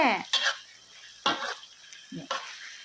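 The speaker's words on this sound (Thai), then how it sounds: "ใส่โหระพาลงไปเลยก็ ผัดแค่" Eggplant stir-fried with Thai basil in a pan, a spatula scraping and clinking against the metal in three or four quick strokes over a light sizzle, close and clear, with no talking.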